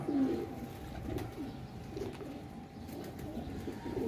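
Pigeons coo softly and repeatedly, low rolling calls overlapping at a moderate distance against a steady murmur of background noise at a rooftop loft of flying pigeons.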